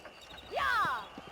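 A horse in Red Dead Redemption neighs with a loud rising whinny, surrounded by faint clip-clop hoofbeats in the background.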